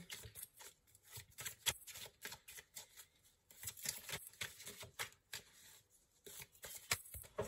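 A deck of Symbolone oracle cards is shuffled briskly and almost without pause, giving a dense, crisp patter of card edges sliding and flicking close by, easing briefly before picking up again, with no voices.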